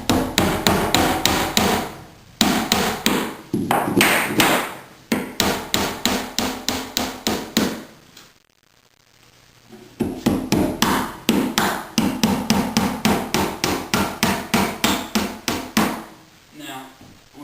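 A hammer drives nails into a hardwood floor in quick repeated bursts of sharp knocks, with a short pause midway, close and loud with no talking.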